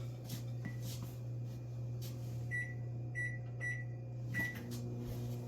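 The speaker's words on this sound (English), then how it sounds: "let me put this in the microwave so it can start melting" A microwave oven melting chocolate chips hums steadily nearby, with a few faint clicks and short high beeps over the running drone.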